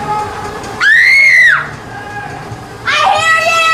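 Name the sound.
people yelling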